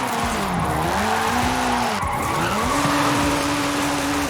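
A Honda Civic drifts in a video game, tires squealing loudly and continuously as the engine note rises and falls through slides, with a short break midway before the squeal resumes at a steady pitch.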